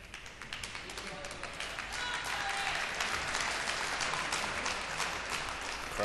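An arena crowd at a women's singles badminton final claps and applauds, starting as scattered claps and swelling into steady loud applause, with a commentator's voice underneath.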